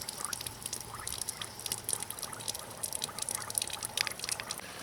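Water rushes through a 2000-2007 Ford Taurus cooling system during a flush, a steady gurgling, splashing flow with irregular bubbly bursts throughout, moderately close and continuous.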